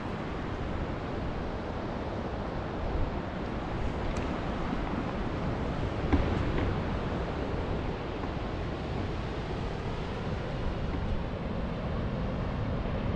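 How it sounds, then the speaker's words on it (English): Ocean surf at Pudding Creek Beach on the Northern California coast washes in a steady, broad roar with light breeze noise across the microphone. "Here we are at Pudding Creek Beach."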